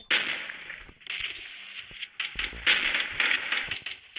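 Sharp, cracking game gunshots from a sniper rifle in the shooter Kuboom go off in several quick bursts with short gaps, bright and snappy, over fainter background clatter.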